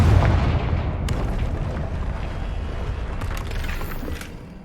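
A Confringo fire spell explodes in Hogwarts Legacy, a loud, dense boom that rumbles on and slowly fades, with a few sharp crackles flaring up through the roar.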